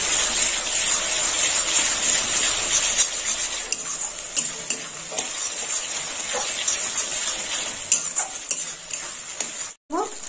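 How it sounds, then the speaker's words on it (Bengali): Kashmiri chicken is sautéed with green chili paste in a pan, giving a continuous bright sizzle under irregular scraping and clinking strokes of a spatula, close and steady, with a brief dropout near the end. "এবার ভালো করে কষে নেব"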